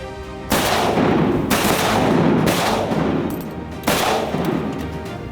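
Shotguns fired during a duck hunt, several loud booming blasts spaced a second or so apart, each trailing off in a rumbling echo over open air, no talking.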